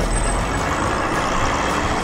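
A little toy bulldozer from a children's animation rolls toward bowling pins with a steady, close, rumbling engine drone that holds constant throughout, with no voices.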